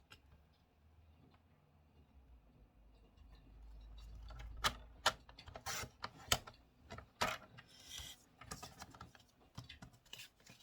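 Paper being cut for a baby album page, heard as a run of sharp, close snips and clicks at irregular intervals, quiet at first and growing more frequent, with no talking.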